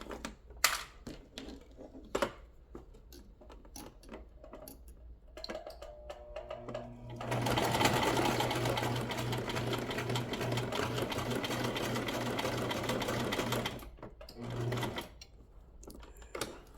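A sewing machine runs steadily for about six seconds, stitching scrap fabric for a small lip balm holder, framed by sparse clicks and handling noises before and after the burst.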